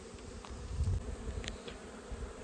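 Honeybees hum in a steady, low buzz at an opened hive in an apiary before a cold snap, with a few brief higher whines from individual bees passing near, no speech.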